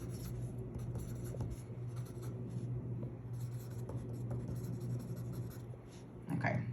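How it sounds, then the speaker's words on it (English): A pen writes on a paper check, making a soft, steady scratching that runs continuously over a low hum before a brief louder rustle at the end. "And I'm going to write this one for Mary."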